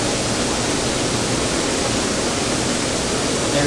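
Jets churning in a Nordic hot tub, a steady, loud broadband rush of bubbling water that stays even and unbroken throughout, with no voices.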